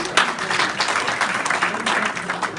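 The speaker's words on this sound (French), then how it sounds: "Applaudissez, professeur." Applause from an audience at an opening ceremony, a fairly close, uneven patter of clapping that swells and dips in bursts throughout.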